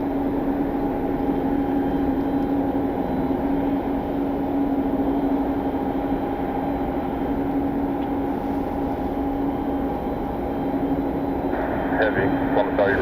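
Jet engines of a Boeing 777 airliner, a United charter, drone as a steady broadband roar with a constant hum throughout, with radio chatter and talk audible over it.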